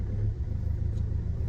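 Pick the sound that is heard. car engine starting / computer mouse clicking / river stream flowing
car engine starting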